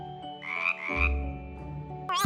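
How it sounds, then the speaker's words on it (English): A frog croaks in a few loud, close, throaty bursts, ending with a sharp rising chirp, with no talking. "F is for frog."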